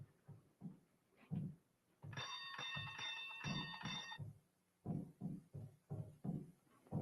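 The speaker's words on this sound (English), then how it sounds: "You ring the bell." A door bell rings in a sustained bright electric buzz lasting about two seconds, with soft thumps and shuffling before and after.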